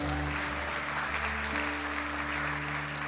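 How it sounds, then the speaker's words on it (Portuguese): A church congregation applauds during an anniversary service: a full, steady burst of clapping from many hands over sustained keyboard chords that hold and shift once, loud and continuous. "Alguém pode aplaudir o Senhor por isso?"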